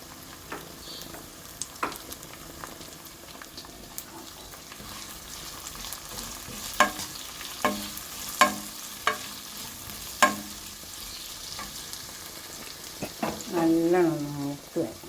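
Spices and curry leaves fry in hot oil for a shrimp and drumstick curry, a steady close sizzle broken by sharp spoon clacks against the pan and a louder burst of crackling near the end, with no talking.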